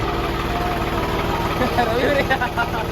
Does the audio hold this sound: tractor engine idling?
yes